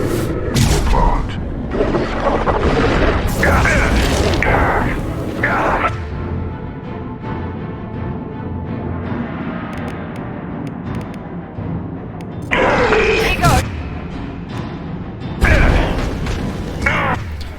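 Explosive booms and bursts of gunfire from a Mass Effect 2 firefight on Insanity difficulty, including a flashbang blast, come in loud repeated bursts with quieter rumbling stretches between them.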